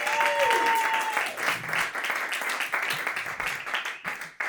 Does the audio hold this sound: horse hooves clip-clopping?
no